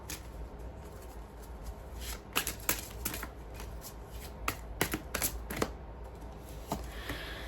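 Oracle cards being shuffled and drawn, a steady rustle broken by sharp papery flicks and slaps in irregular clusters, close to the microphone over a constant low background hum, with no talking.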